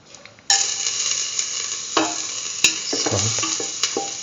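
Ginger hits hot oil in a pan with a sudden loud sizzle that continues steadily, broken by scraping stirs and light clinks of a utensil against the pan.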